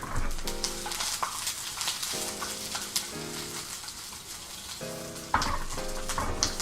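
Vegetables searing in butter in a hot aluminum pan, a steady loud sizzle with bursts of crackling as pieces are tossed in and stirred, with no talking.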